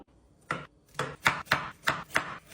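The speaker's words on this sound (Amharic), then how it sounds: "በአንድ ብሌንደር ስለምንፈጨው ለመፍጨት አነሳ አድርገን እንከትፈዋለን" Carrots chopped on a board for carrot cake, cut roughly before blending: about six sharp, evenly spaced knife strikes, close and clear, with brief quiet gaps and no talking.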